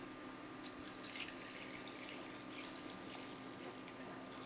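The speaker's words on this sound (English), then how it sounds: "So I'm gonna add our water." Water is poured into a stew pot on the stove, a steady close splashing stream that keeps going the whole time over a faint low hum, with no talking.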